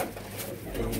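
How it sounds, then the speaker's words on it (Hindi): Teddy breed pigeons, a Teddy Golden line kept together in a loft, coo in a steady, close, moderately loud stream of soft throaty calls that fills the whole second. "ये सब टेडी कबूतर हैं जी।"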